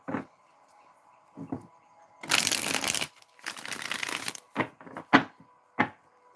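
Tarot cards shuffled and drawn from a deck during a live reading, with several bursts of papery riffling and a few short sharp card flicks, close and fairly quiet, with no talking.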